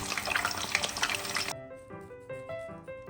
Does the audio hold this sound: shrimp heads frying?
yes